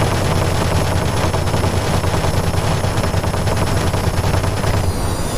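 Rapid cannon fire rattles against a jet in a DCS Korean War dogfight between an F9F-5 and a MiG-15. Dense, loud bursts of gunfire run over the continuous roar of the engine.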